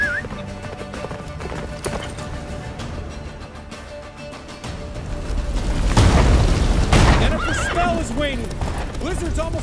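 Horse galloping in The Witcher 3 video game during a battle at a fortress in a blizzard, hooves pounding amid whinnies and heavy booms, with voices shouting over the action.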